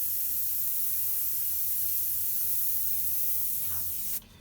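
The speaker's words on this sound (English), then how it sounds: "I've got to clean my airbrush here" An airbrush being cleaned sprays a steady, loud hiss that holds for about four seconds before cutting off abruptly.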